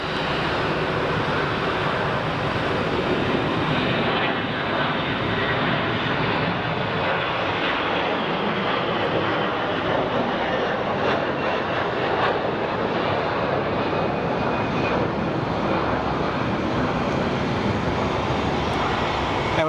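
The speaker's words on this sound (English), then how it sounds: "we caught a plane in the background too, which is crazy" An airplane's jet engines roar loudly and steadily near Phoenix Sky Harbor International Airport, a broad continuous rush that stays strong throughout without pause.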